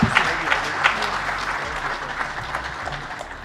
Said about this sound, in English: a warm applause for him as he takes the stage